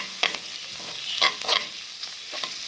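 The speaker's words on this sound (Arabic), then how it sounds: "بعد ما شحرات لينا هذيك البصله دابا غنضيفوا عليها الكفته" Ground meat kefta sizzling with softened onion in a pan, a steady close frying hiss broken by several scraping stirs, no talking.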